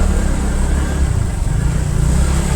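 Heavy road traffic in the crowded Mapusa market, a loud steady roar of engines and passing vehicles close by, continuous and dense throughout.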